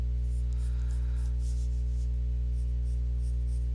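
Pencil sketching a rounded cartoon cyclops shape on paper, a faint repeated scratchy stroke sound over a steady low electrical hum, with no talking.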